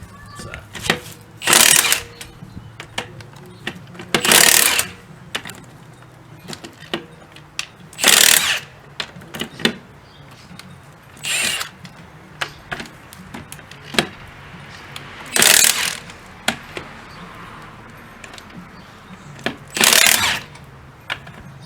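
Impact wrench working on a rough old car, sounding in about seven short, loud bursts of rattling hammering spread irregularly across the span, with shop noise and faint clatter between them.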